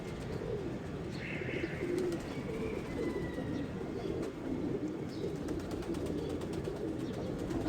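Soft, low cooing of pigeons repeats over a steady outdoor background hum, with a few faint chirps mixed in.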